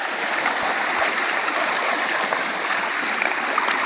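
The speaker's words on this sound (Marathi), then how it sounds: "ह्या बघा आता व्हाळ व्हावता आमचा जोरात एकदम सुसाट व्हावता" A swollen stream in Konkan rushing hard after heavy monsoon rain, making a loud, continuous roar of churning water up close without a break.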